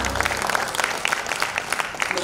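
A congregation at a senior community church worship service applauds together, a dense, steady patter of many hands clapping, with voices mixed in over the clapping.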